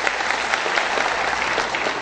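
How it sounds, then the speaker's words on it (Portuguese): A crowd applauds for deputy Eduardo Farias, with dense, even clapping that holds steady throughout at close range. "a qual eu pediria também uma salva de palmas para Eduardo"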